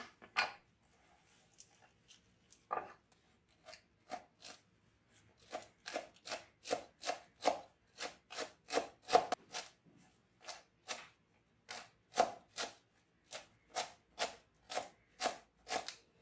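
A knife finely chops coriander stems on a board for a Goan prawn curry: crisp, evenly spaced chops, sparse at first and then a steady quick rhythm, close and moderately loud with no talking.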